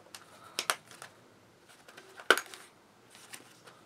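Metal coins clink inside a drawstring coin pouch holding a fair weight of money, with a few sharp close jingles scattered through a quiet background and one louder clack near the middle.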